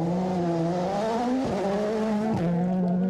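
A damaged WRC rally car crawls at low speed near the end of a stage in the Swedish rally, its engine a steady droning tone that dips and rises slightly, heard close.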